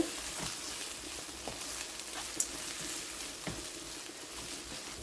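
Tomato puree sautés quietly in a pan for a South Indian chicken curry, a soft continuous sizzle with occasional faint stirring clicks, no voices.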